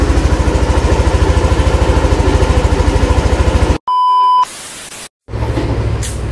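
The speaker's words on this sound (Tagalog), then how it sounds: "umaandar na yung motor ulit, umaandar na ulit sa NMAX" A Yamaha NMAX scooter engine idles steadily and close by with a fast, even pulse, then cuts off abruptly, followed by a short electronic beep and a brief gap before the idle resumes.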